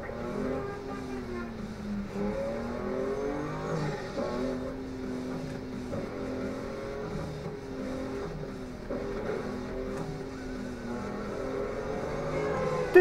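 A car engine in Need For Speed: Undercover drones steadily while cruising, its pitch gently rising and falling with the throttle, and is heard alone at a moderate level.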